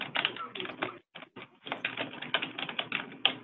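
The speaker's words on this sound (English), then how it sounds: "I'm typing your email into the chat box." Quick, irregular clicking of a computer keyboard as an email address is typed, faint and close, with a brief pause partway through and no other sound.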